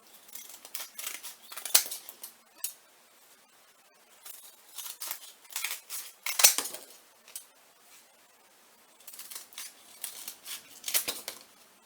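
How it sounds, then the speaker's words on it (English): Scissors snip through cardboard in a repeated run of short, crisp cuts, close and fairly loud, with brief pauses between bursts and no talking. "so I'm just going to cut as much off as I can first before going round"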